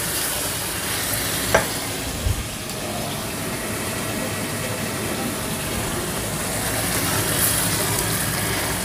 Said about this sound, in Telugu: ఈ మటన్ని కూడా బాగా ఇందులో కలిసేలాగా కలుపుకోవాలి